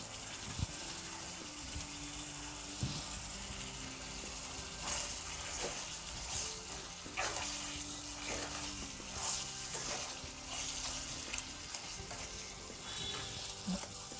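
Crab curry in an Andhra-style pan being stirred, with a steady sizzle and scraping, clicking strokes of a utensil against the pan, fairly close, with no one speaking.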